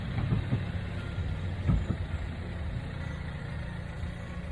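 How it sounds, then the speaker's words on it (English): A tractor drives past outdoors in St Albans, Hertfordshire, England, a steady low engine rumble with a brief louder swell midway, plus some beeping, heard on its own without talk. "just a tractor going by"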